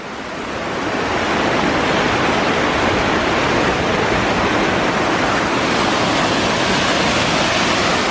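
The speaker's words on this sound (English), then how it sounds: "Plenty of running water" Steady, loud rushing of a mountain stream's running water close by, a dense continuous wash with no voices.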